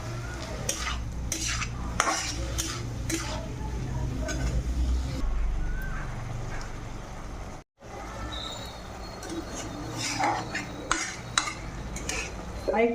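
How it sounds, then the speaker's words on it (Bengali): Masala spices sizzle and fry under a lid in a pan, a steady close hiss broken by repeated scraping and clinking of a spoon against the metal, with a brief gap in the middle. "ঢাকা দিয়ে মশলাটা কষে নেব"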